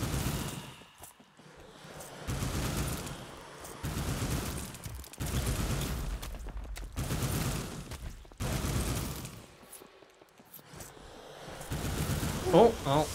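Video game gunfire in Lone Ruin comes as repeated rapid bursts of shots in a stop-start rhythm, with short pauses between volleys, at moderate loudness over a low, busy game background.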